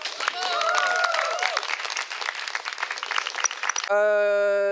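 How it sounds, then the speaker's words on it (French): Audience applause at a French-language queer cabaret show, a dense burst of clapping that swells loudly and carries on for several seconds alongside cheering voices, then cuts off abruptly into a sustained tonal sound. "Je vous demande de les applaudir."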